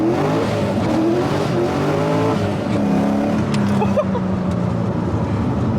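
A GT350 with a swapped Barra engine accelerates hard in second gear, its engine note rising loud and close from inside the cabin.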